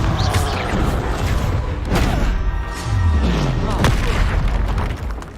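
Confringo blast spells boom repeatedly in a Harry Potter-style video game, producing loud, dense rumbling explosions with thuds and rising tones layered over a continuous heavy low roar.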